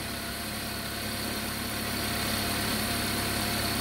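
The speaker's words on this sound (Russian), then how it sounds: "Вон двигатель, видишь, как работает? Он дергается." Toyota Prius 30 engine idling roughly after its clogged EGR was cleaned and the MAF sensor replaced, a steady close-up mechanical hum with a constant vibrating drone and no talk.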